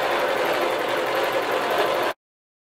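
A sewing machine stitches in the ditch along a giraffe design on a quilt, a steady close whirring buzz that runs evenly and then stops abruptly, no voices.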